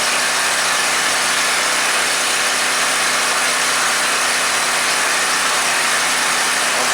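A WEN 4050 portable generator engine runs steadily on half choke, its loud, constant broadband drone holding without a break and with no talking.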